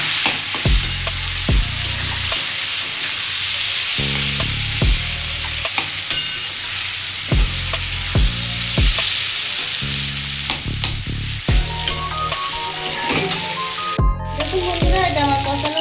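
Potatoes and hilsa fish head being sautéed in a pan, with a loud continuous sizzle and repeated rhythmic scraping stirs of a spatula throughout.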